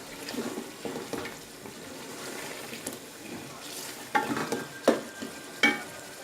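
Desi chicken curry frying with masala in a pan, giving soft sizzling with scraping stirring strokes and a few sharper clatters toward the end.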